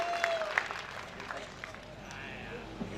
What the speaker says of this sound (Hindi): सारे लोग दोनों हाथ खड़े करो, ताली बजाओ अर्जुन अल्हड़ के लिए।